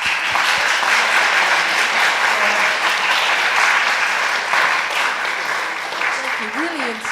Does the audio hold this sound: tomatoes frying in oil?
no